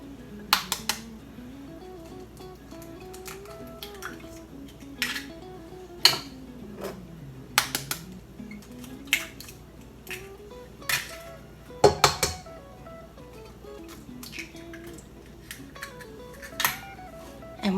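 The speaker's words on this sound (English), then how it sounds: "now I'm going to cream together sugar" A spoon clinks and taps irregularly against a bowl while 2.5 cups of sugar and three eggs are creamed together for a caramel apple cake; the knocks are light, scattered and fairly close.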